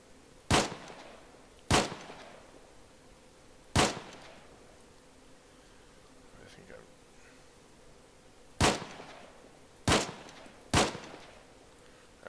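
Rifle shots fired at a .50 cal gunner in Arma 3, six sharp, loud cracks spaced irregularly over about twelve seconds, each with a brief echoing tail, with quiet background ambience and some talk between shots.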